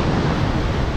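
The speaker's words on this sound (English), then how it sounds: "Just really scared of all the splashing and water." Sea waves wash and splash against rocks at the Herring Pond, a steady broadband rush mixed with wind buffeting the microphone, close and fairly loud.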